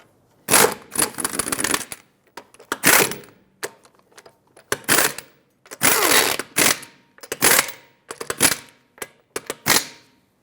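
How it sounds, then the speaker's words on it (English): Lug nuts being run down onto a 2013-2020 Nissan Pathfinder wheel: repeated close bursts of rapid ratcheting clicks separated by short pauses, with no talking. "Start on all 5 of your lug nuts, bottom them out, and then we'll torque them to spec in a cross pattern."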